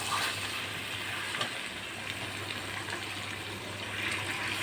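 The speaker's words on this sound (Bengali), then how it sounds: "এখন ঝোল দিয়ে দেবো" Broth is poured into a pan of frying meat curry, giving a steady watery gush over constant sizzling. A brief clatter comes near the start.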